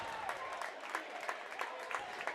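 Crowd noise at a high school boys' basketball game between Arapahoe and Eaglecrest, a steady wash of cheering and clapping with repeated short swells, heard from within the gym.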